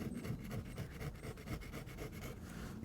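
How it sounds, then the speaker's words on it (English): Steady rasping scrape of a tool dragging thick dried glue and old foam off the board of a GM OBS regular cab Chevy truck headliner, continuous rough strokes, close and fairly quiet, with no talking. "Or you can actually just scrape off the material directly like this."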